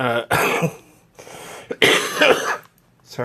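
A few harsh, raspy coughs and throat-clearing bursts from a person with a cold, close and fairly loud, separated by short pauses.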